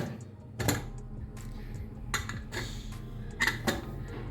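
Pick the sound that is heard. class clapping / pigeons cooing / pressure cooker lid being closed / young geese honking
pressure cooker lid being closed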